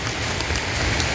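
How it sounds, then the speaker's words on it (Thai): Steady, dense rain pouring down during an evening downpour, a continuous loud hiss of drops on surfaces filling the whole moment with no voices. "อุ้ยฝนกระตกพี่น้องเลยค่อนข้างสิลำบากเนี่ย"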